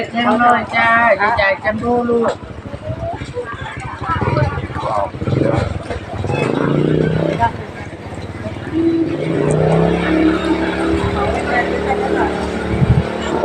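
Cars and motorbikes passing on a busy street at the Thailand–Laos border: a steady, loud traffic rumble with engines swelling and fading nearby, under continuous talk and background crowd chatter.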